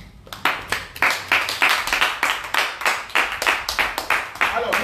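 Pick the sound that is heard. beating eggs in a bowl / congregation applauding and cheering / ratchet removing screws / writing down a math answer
congregation applauding and cheering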